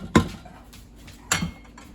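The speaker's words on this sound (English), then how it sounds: "so we're stirring it up" A spoon scrapes and knocks against a pan while dirty rice is stirred, giving two sharp clanks about a second apart with soft scraping between, close and clear with no talk.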